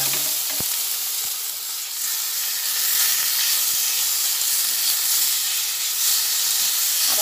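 Tomatoes and pieces of katla fish fry in oil, giving a loud continuous sizzle and hiss close by, with a few soft stirring knocks and no voices.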